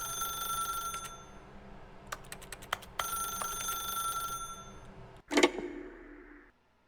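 A telephone rings in The Stanley Parable video game, sounding as a series of repeated electronic bursts that stop and start again. Each burst is clear and fairly loud, and a sharper clatter comes near the end before the clip goes silent.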